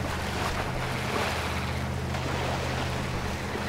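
A Land Rover in the off-road game MudRunner drives into a deep river. A loud, steady wash of rushing water and engine noise fills the whole stretch without a break.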